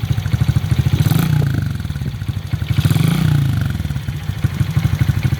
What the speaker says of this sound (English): Give it some revs. Rev it up.